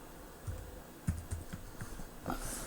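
Keystrokes on a computer keyboard while searching Windows 10 settings, a short run of soft, close clicks tapped out irregularly with brief pauses, faint and alone with no voices.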